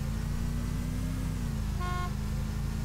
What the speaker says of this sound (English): Sven, you hear my horns?